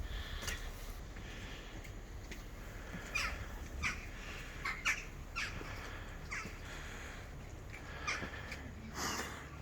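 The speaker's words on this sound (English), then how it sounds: "Our friends the seagulls." Gulls calling around the rocky island abbey of Mont-Saint-Michel in France, several harsh squawking cries scattered over a steady outdoor wind and murmur, some near and some farther off.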